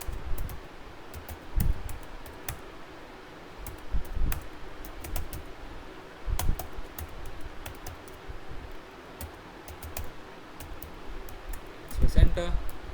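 Keystrokes on a computer keyboard while typing commands in a Linux terminal, scattered soft clicks in short bursts over a low steady room hum, with a voice talking.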